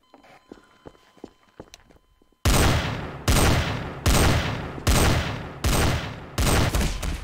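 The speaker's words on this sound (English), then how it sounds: "Who's shooting you now?" Gunshots in Garry's Mod DarkRP ring out after a quiet stretch of faint clicks, as a series of six loud, evenly spaced booming shots, each with a decaying tail.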